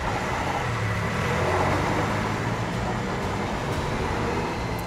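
A Mercedes-AMG One hypercar with a 1.6-litre turbocharged Formula 1 engine drives along, heard as a steady, broad mechanical roar and road noise at constant level, fairly close and without talk.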